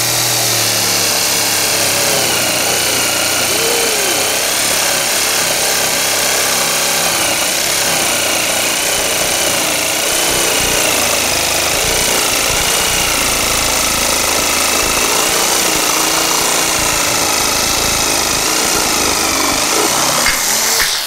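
A jigsaw from a 3-in-1 power tool kit, rated for 4 cm thick material, runs continuously for about twenty seconds with a steady, loud, buzzing cutting noise and no talking.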